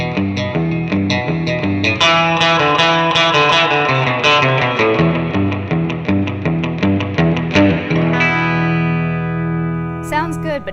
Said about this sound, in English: I'm going to go ahead and make a surf preset. And how about a twin reverb and a 63 spring at the beginning.